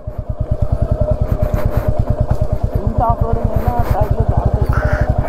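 An off-road motorcycle engine idles and chugs close by in a rapid, regular thumping pulse, loud and steady, with voices talking over it.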